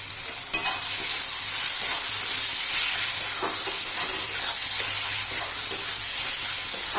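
Chicken mince with garam masala stir-fried in a pan, a steady close sizzle with scraping stirs and occasional clacks of the utensil, continuous and without talk.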